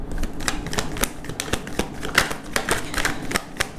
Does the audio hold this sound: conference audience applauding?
no